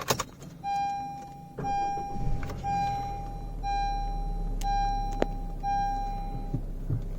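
A key being inserted into the ignition of a Honda Amaze facelift S variant, with a few sharp clicks and knocks inside the car while a steady electronic chime repeats in short tones, close and fairly quiet.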